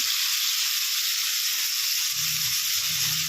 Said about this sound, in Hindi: तेल हमारा गर्म हो गया, इसमें हम डालेंगे मशरूम